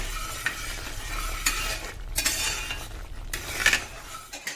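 Second coconut milk poured into a thickened pumpkin pradhaman of pumpkin and jaggery syrup for Vishu, heard as close, soft splashing and stirring bursts with faint clinks of a utensil against the pot.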